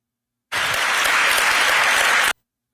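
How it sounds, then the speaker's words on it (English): Studio or comedy-show audience giving a loud round of applause, a sudden dense burst of clapping that starts abruptly, holds steady for about two seconds and cuts off sharply. "Yes, round of applause."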